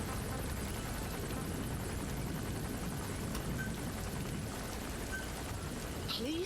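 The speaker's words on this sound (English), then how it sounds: "I have to pull in a launcher to deal with a chopper" A helicopter flies in Metal Gear Solid V, a continuous low rotor rumble and drone that holds steady throughout, with faint game effects near the end.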